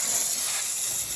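Steam cleaner hissing against a Mustang's neglected wheel well, a steady close broadband hiss with no talk over it.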